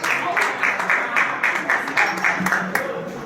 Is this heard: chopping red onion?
no